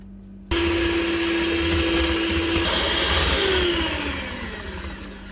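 Electric hand beater whirring steadily as it whips sugar with eggs until fluffy for homemade cake rusk, a loud continuous motor drone that starts abruptly and eases slightly toward the end, no talking.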